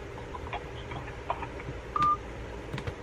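Brief electronic telephone tones at the end of a phone call, a couple of short beeps around the middle and end over faint room hum, with no talk.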